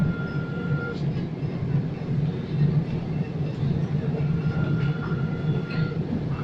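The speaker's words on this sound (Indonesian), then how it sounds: "Terus sekarang kita nyambung Skytrain, kita mau ke arah Terminal 2" Steady rumbling ride aboard the Skytrain people mover at Soekarno-Hatta International Airport, heading toward Terminal 2, with a continuous low drone and light rattles throughout and no clear break.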